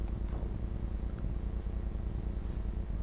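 A few soft, sparse computer mouse clicks from someone working in graphic design software, faint over a steady low background hum with no talking.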